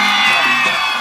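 A festival crowd cheers and whoops loudly at close range in a steady wash of voices, with no distinct claps standing out.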